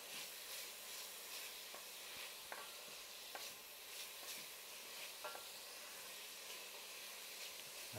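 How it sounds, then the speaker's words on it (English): Bacon fat rendering in a pot for New England clam chowder gives a soft, steady sizzle and crackle, faint and continuous, with occasional light pops and a scrape or two of stirring, and no voices. "You can really see that fat being rendered out of the bacon"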